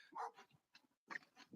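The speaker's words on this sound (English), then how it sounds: "sorry for the barking in the background" A dog barks in the background, a few short, faint, muffled barks spread across a brief stretch, distant from the microphone with nothing else prominent.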